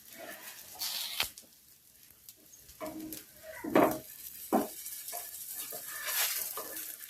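Potato patties shallow-frying in oil in a pan give a soft, close sizzle, broken by a few sharp scraping and tapping sounds as they are moved and turned.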